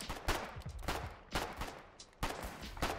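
Gunfire in the online war game Foxhole, with sharp, broadband shots recurring in a rough rhythm roughly every half second over a busy battlefield din, several bursts standing out loudly.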